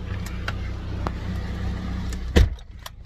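A car idles with a low steady engine rumble, then a brief thud like a door shutting near the end before the sound fades, as the vehicle begins to pull away.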